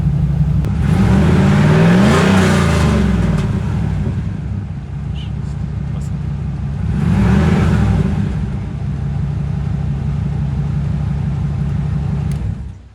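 A Pontiac Firebird III's engine revs loudly and close, a steady idle-level rumble rising in two clear bursts before settling back to a sustained drone; no voices.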